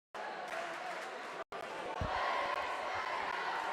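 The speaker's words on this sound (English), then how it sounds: "the Ryder crowd's letting the refs know that they want the backcourt" Home crowd at a high school boys basketball game, Poteau versus Checotah, roaring in a sustained, loud wall of shouting at the referees, with a brief break near the start and some thumps and voices mixed in.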